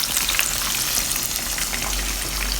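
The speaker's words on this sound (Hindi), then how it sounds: "फिश को मैंने अच्छे से फ्राई कर लिया है" Fish fries in hot oil for a Lahori masala fish fry, giving a steady, close, continuous sizzle and crackle with no talking.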